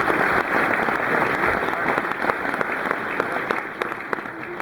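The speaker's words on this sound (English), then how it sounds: "Help me give a round of applause to James Sieckman" An audience applauds a new golf team member, with dense clapping that starts full and thins toward the end, leaving scattered individual claps and faint voices.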